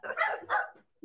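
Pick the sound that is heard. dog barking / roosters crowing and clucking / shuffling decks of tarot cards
dog barking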